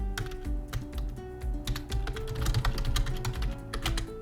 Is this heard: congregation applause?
no